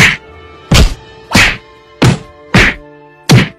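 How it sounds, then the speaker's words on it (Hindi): Six loud cartoon whacks of a stick striking a bull, evenly spaced about two-thirds of a second apart, each a sharp thwack with a short ringing tail, no voices. "और डंडे से बैल को पीटने लगा।"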